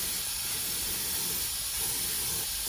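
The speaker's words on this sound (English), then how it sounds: "I'm going to show you it's quite a controlled spray." A continuous, even hiss of wax oil underbody sealer spraying from an aerosol nozzle onto a car's rear subframe, close and steady throughout.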